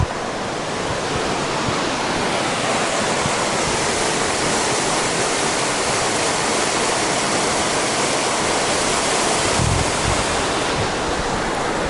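Water rushing steadily at a river water hole in the New South Wales high country, a loud, dense, unbroken roar of flow heard up close without any voices.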